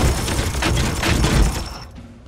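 Dense rapid gunfire in the video game Warhammer 40,000: Chaos Gate - Daemonhunters, a sustained volley of shots with heavy booms, loud and close, fading out near the end.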